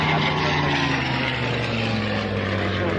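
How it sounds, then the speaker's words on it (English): A restored propeller aircraft flying overhead, a loud continuous droning engine roar with slowly sliding pitch, sustained throughout with no voices. "Oh, the sound of these aircraft, absolutely stunning."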